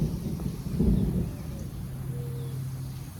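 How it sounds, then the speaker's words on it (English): Low, distant thunder from a brewing storm rolls faintly over a garden late in the day, with one soft rumbling swell followed by a steady murmur of outdoor background noise. "There's like a storm a brewing."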